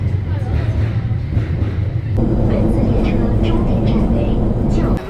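Metro train on a Guangzhou subway line rumbles loudly and continuously, with a low drone that deepens and swells partway through as the train moves, while a voice talks over it.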